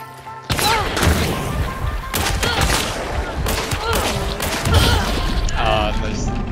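Gunfire in the game Hunt: Showdown, a dense burst of loud shots and crashing impacts filling most of the stretch, with voices talking over the action.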